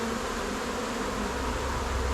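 A honey bee swarm gives off a dense, steady buzz, loud and close, with no pause across the whole short stretch.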